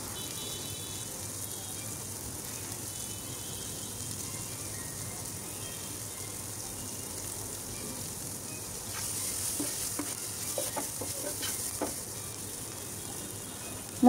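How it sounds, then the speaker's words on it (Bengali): Onions and green chillies fry in oil with a soft, steady sizzle that continues throughout, joined later by a few light clinks of stirring near the end. "এখন পেঁয়াজটা একটু ভালোভাবে ভাজা হলে অন্যান্য মশলা অ্যাড করব।"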